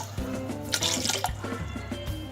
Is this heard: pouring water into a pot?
yes